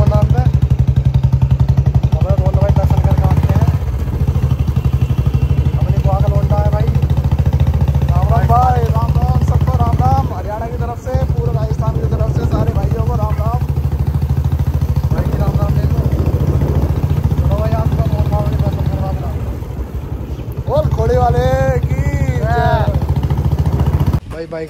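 A motorcycle engine while riding, a loud steady low drone with rising and falling revving, continuous throughout, with someone talking over it much of the time.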